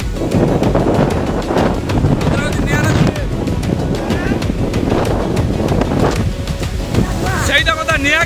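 Strong wind from a Kalbaishakhi storm buffets the microphone in loud, rough gusts that roar on and off throughout, while a person talks over it and small chirps and clatter sound near the end.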